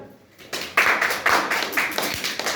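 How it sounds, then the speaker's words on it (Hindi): Students in a classroom clap their hands together in rhythmic bursts, several loud claps in a loose steady beat, close and without talking. "ताली बजा दो"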